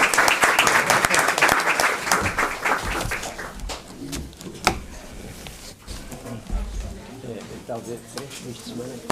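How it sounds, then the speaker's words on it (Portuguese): Applause from the audience at the close of a long lecture session, dense clapping at first that thins out over a few seconds while talk carries on over it. "Aplausos e tudo, caramba."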